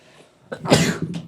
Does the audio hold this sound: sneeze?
yes